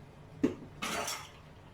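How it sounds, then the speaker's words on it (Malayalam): A cooking pot or pan set down on a stovetop in a home kitchen before frying eggs: one sharp clunk, then a brief scraping rattle of metal, close and moderately loud with no talking. "അതിന് വേണ്ടിയിട്ട് ഒരു പാത്രം വെച്ചു."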